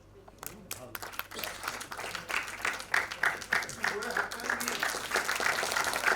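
Applause from the audience at a felicitation event for a Navi Mumbai Bengali association, swelling from scattered claps into steady, loud clapping that fills the room, with some talk mixed in underneath.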